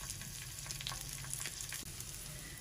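Raisins frying in ghee in a pan give a steady, close sizzle with dense crackling, unbroken for the whole stretch and with no voices over it.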